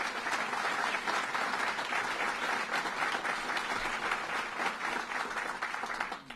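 A crowd at a governor's budget address in Rochester applauds steadily and fairly loudly, with dense clapping throughout that tapers off at the very end.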